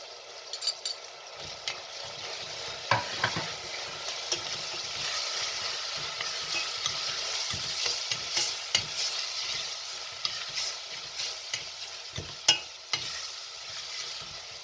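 Onions and potatoes fry in a pan while a spoon stirs them, giving a soft continuous sizzle broken by repeated scraping stirs and light clinks at an irregular pace.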